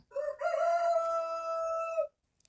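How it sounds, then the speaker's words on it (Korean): A single loud, drawn-out rooster crow from up in a tree, clear and close, ringing for about two seconds before stopping. "나무 위에 올라가 수탉이 소리쳤어요."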